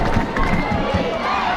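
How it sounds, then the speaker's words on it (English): A loud crowd at the Gilman–McDonogh high school football game roars continuously in a dense wash of cheering and shouting, near and sustained throughout. "This McDonough crowd continues to stay loud"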